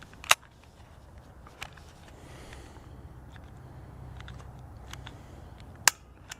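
Two sharp, isolated clicks of a film camera's shutter release, one early and one near the end, sound close against a quiet room with faint handling noise between them.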